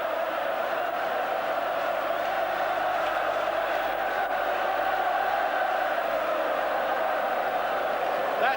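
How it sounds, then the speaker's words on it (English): Massive crowd of Celtic supporters cheering at Hampden Park after a 1988 cup win, a steady distant roar of voices sustained throughout. "That massive support in the background."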